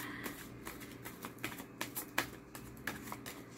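A deck of cards being shuffled by hand, giving a quiet run of irregular soft clicks and riffles that come and go over a few seconds, with no speech.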